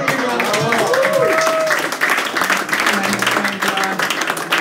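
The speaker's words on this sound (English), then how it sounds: "Give Paul a big round of applause." An audience at an awards reception claps for an honoree. The loud, dense applause is mixed with cheering and overlapping voices, and a few whoops rise above the clapping.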